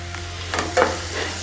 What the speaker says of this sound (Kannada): ಈರುಳ್ಳಿ ಎಲ್ಲ ಗೋಲ್ಡನ್ ಬ್ರೌನ್ ಆಗಬೇಕು, ಅಲ್ಲಿವರೆಗೂ ನಾವು ಇದನ್ನು ಸಾಟೆ ಮಾಡಬೇಕು